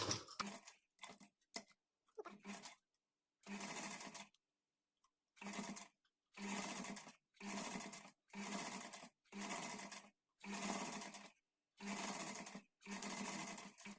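A sewing machine stitches a blouse back neck in bursts of rapid mechanical whirring, short stuttering runs at first, then a regular series of longer stitching runs separated by brief pauses, close and clear.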